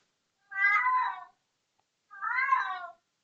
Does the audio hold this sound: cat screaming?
yes